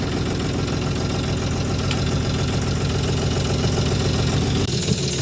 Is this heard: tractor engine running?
yes